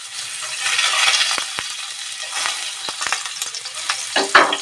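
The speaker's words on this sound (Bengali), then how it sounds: "তো এই তেলের মধ্যে আমি দিয়ে দেবো রসুন কুচি" Chopped garlic hits hot oil left over from frying okra for bhindi masala and sizzles steadily, with a few sharp clinks and scrapes of stirring near the end.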